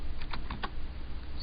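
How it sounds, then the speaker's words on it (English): Typing on a computer keyboard, with a quick cluster of about five sharp key clicks in the first two-thirds of a second, then only quiet room hiss. "what's wrong with my typing today?"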